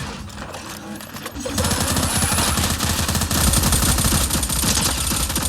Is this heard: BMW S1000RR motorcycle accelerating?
no